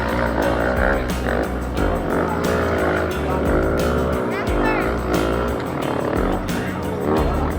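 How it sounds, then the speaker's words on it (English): Off-road rigs and side-by-sides rev their engines in snowy winter backcountry, loud and continuous, with overlapping engine roars under talk. "the sound of revving engines echoing through the cold air"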